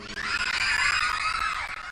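A woman in a religious lecture audience lets out a sustained, loud, high shriek lasting nearly two seconds, alone without talk.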